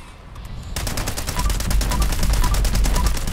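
Rapid automatic gunfire from a perforating magazine weapon in Fallout 76, a fast even stream of loud close shots that starts abruptly and rattles on steadily to the end, with low rumbling underneath.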